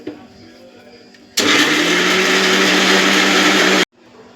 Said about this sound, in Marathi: आता आपण हे मिक्सरला बारीक करून